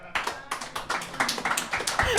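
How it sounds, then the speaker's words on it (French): A small audience claps during a French-language beer-tasting show, a few close hands beating in quick, uneven bursts amid chatter and voices. "Applaudissez."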